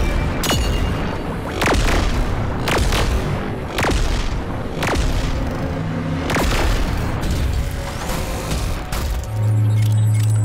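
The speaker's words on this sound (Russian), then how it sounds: "Аннигиляторная пушка!" Repeated booming cannon blasts from the annihilator cannon in Animation vs. Math, about eight loud, sharp impacts at irregular intervals over a dense rumbling background, ending in a sustained low hum.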